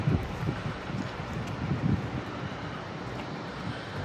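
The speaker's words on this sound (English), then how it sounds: "It's a little breezy." Steady wind buffets the microphone on a mountain trek climbing toward a ridge on the route to Mera Peak, a constant broadband roar with low gusty thumps, alone without voices.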